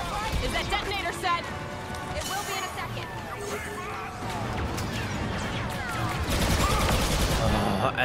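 Gunfire and blaster shots crackle in dense bursts throughout a Star Wars Battlefront 2 battle, loud and continuous, with crashes and impacts layered over a voice talking.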